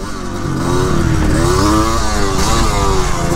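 Off-road motorcycle with a DT chassis accelerating on a track, a loud, close engine roar rising steadily in pitch for several seconds with no talking over it.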